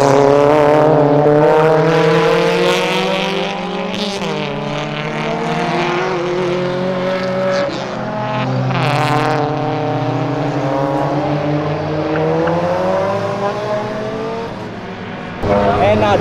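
A Honda Civic Type R engine revs hard under full acceleration, a loud, sustained, close roar with rising and falling pitch that holds steady for about sixteen seconds.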